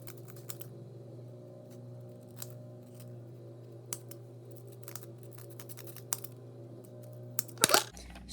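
Scissors snip through paper to cut out a Tic Tac surface shape for a homemade tech deck, the faint scattered cuts sitting over a steady low hum before a louder burst of rustling near the end.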